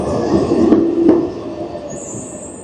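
A tram rolls past on a street in Milan, Italy, with a loud rumble and a high wheel squeal, then the noise eases as a thin whine lingers.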